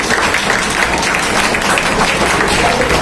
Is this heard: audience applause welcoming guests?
yes